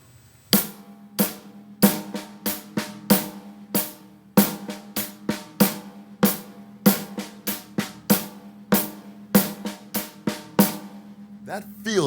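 Hand-played drum groove, no bass drum, with accents pushed onto beats 2 and 4, a steady pattern of crisp strokes at moderate level with no talking.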